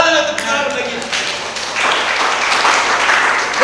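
A church congregation clapping hands together, dense sustained applause-like patter filling the space, fairly loud and continuous.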